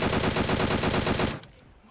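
A sustained burst of automatic rifle fire in PUBG Mobile, rapid evenly spaced loud shots that stop abruptly, followed by a faint tail.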